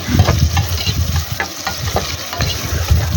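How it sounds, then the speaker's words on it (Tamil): Onions and ginger garlic paste sautéing in oil for a country chicken curry, a close, busy sizzle broken by repeated stirring scrapes and spoon knocks. "வெங்காயம் வந்து நல்லா வதங்கிட்டோம்"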